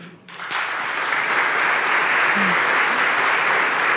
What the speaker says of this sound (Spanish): Permítanme pedirles un fuerte aplauso que llegue a la inmensidad de las estrellas